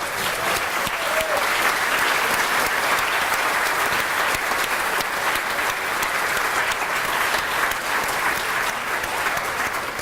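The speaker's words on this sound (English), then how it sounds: "So maybe we could give them a round of applause." Audience applause at a community strategic planning retreat held at a local venue, a steady, dense wash of clapping from a sizable group that stays level and fairly loud for the full length, with no speech over it.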